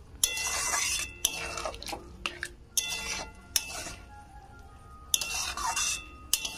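A banana stem and poppy-seed curry stirred in a pan over high heat, with bursts of hissing and watery bubbling between sharp metal clinks of the spoon against the pan, close and moderately loud.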